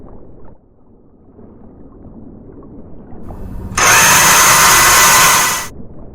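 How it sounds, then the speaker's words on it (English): An electric torque wrench fastens bolts on a gas containment barrier during a virtual-reality subsea pipeline repair exercise, sounding as one loud, steady two-second burst of high whirring after a low background hum. "Use electric torque wrench to fasten the gas containment barrier."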